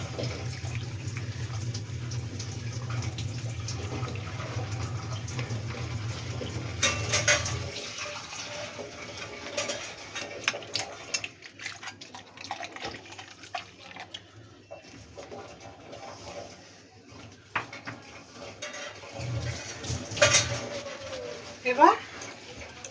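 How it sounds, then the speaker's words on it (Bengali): A kitchen mixer jar is rinsed under a running tap, a steady stream of water for several seconds that then stops, followed by faint clinks and handling noises. "মিক্সিং জারটা ধুয়েও দিয়ে দিচ্ছি, কেননা অনেকটা লেগে রয়েছে।"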